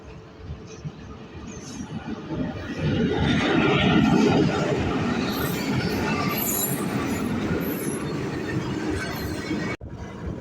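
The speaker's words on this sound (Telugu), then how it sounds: "కానీ ఇక్కడ ట్రైనే వస్తుంది" A train rolls past a railway level crossing: a loud, continuous rumble of wheels and wagons that swells after a few seconds, with high wheel squeal on top, and ends in a sudden cut.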